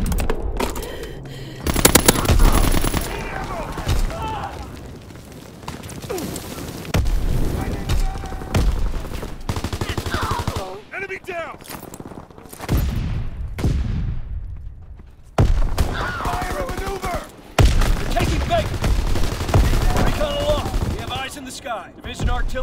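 Sustained machine-gun bursts and scattered gunshots from a war video game, rattling loudly in repeated bursts with short pauses, mixed with radio-style voice callouts.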